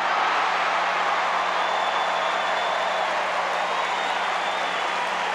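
Tennis crowd at the 1996 Cincinnati semifinal applauding Enqvist, a dense, loud, sustained wash of clapping and cheering that fills the whole stretch without letting up.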